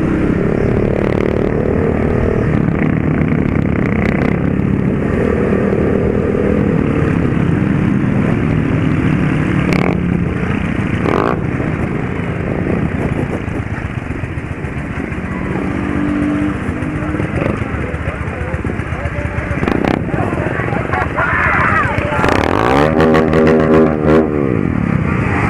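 Several motorcycles at a group riding event in Papagaios, MG, run loud and close, with a continuous engine drone and revving throughout, while voices talk over the noise and a rising engine whine builds near the end.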